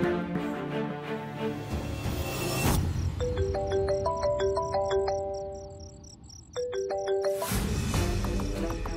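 A phone rings repeatedly in a repeating electronic tone pattern that rises over a background music bed, with a short break before the ringing resumes.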